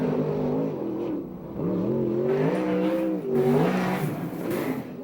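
A USAC sprint car, Everhart car number 55, laps the track, its engine revving in rising and falling waves as it accelerates down straights and backs off into turns, loud and continuous.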